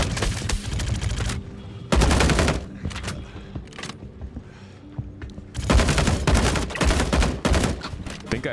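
Automatic gunfire in the game Star Citizen, fired in two long sustained bursts with a quieter, sparser stretch of scattered shots between them, close and loud.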